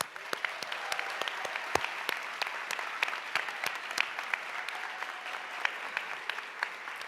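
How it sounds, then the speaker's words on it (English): Audience applause at a Napa County oath of office ceremony for a newly sworn-in Board of Supervisors, a sustained patter of many hands clapping, even and moderately loud, with no talk over it. "Let's give them a round of applause"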